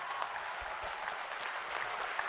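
Continuing applause from a kavi sammelan audience, a dense even patter of many hands at moderate distance, fairly quiet and steady with no voices.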